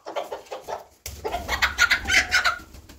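Chickens cluck in quick, irregular bursts close by, a few soft calls first, then a louder flurry of clucking after a brief pause.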